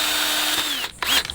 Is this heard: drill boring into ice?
yes